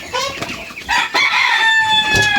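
Several old hens cluck and squawk close by, with drawn-out calls overlapping one another in an uneven rhythm.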